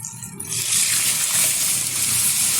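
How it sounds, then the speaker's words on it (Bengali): Boiled mung dal poured into a pan after the tomatoes have softened in oil, a sudden loud watery rush and splatter that begins after a brief quiet moment and continues steadily. "এই অবস্থাতে দিয়ে দেবো সিদ্ধ করে রাখা মুগ ডাল।"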